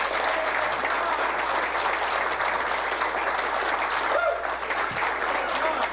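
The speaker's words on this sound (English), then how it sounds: "So let's give John Charleston a round of applause." Steady, dense applause from an audience at a political campaign kickoff event, continuous and fairly loud for the whole stretch, with no voices rising above it.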